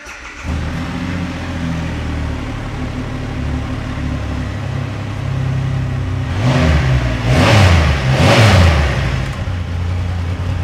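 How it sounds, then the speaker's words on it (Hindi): A Triumph 2500 cc superbike engine idles with a steady, deep throb, then is blipped twice in quick succession to louder revs before settling back to idle, close and loud with no talking. "2500 सीसी की बाइक है, एक बार स्टार्ट करके दिखाओ"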